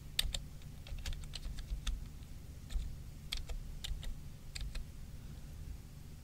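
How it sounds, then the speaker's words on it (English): Soft typing on a computer keyboard while coding in the Windows command prompt, a quiet irregular run of light clicks and key taps in short bursts over a faint low hum. "I also liked the keyboard sounds"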